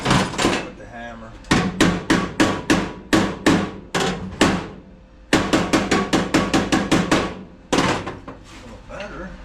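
A hammer strikes metal on a car near a wire loom clamp, in fast bursts of sharp, loud blows separated by short pauses, with a person talking at times.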